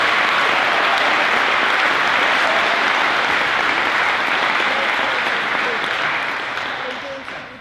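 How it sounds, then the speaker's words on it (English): Sustained audience applause at a St. Mary's High School awards ceremony, a dense steady wash of clapping hands from a full room that holds strong throughout before tapering slightly at the end. "So if we can give Connor a round of applause."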